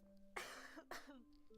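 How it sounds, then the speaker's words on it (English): A single close cough, followed by a second shorter cough, with a faint steady hum in the background. "I got a cough."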